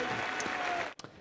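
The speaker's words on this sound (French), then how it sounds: "je crois qu'on peut vous applaudir" Audience applause on a trade-show TV news set: dense, steady clapping for about a second that cuts off abruptly.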